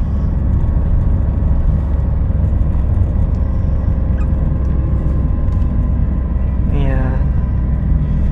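A Daihatsu Rocky 1.2 manual climbs a mountain road at Jurang Ampel in Indonesia, its engine a loud steady rumble that swells with a rising whine near the end, with voices talking over it.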